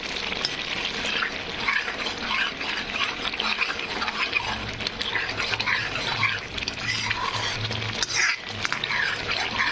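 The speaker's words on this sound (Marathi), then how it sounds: "खूप छान असे ग्रेव्ही पूर्णपणे फ्राय होत आहे" Gravy for a chana dal kadhi fries in a pan, giving a busy, close hiss and bubbling sizzle, broken by occasional stirring scrapes, steady for about ten seconds with no talk.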